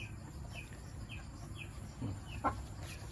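Chickens kept in a converted old pig pen cluck and chirp softly at a distance in a short, irregular series, with one louder squawk near the end over a steady low background hum.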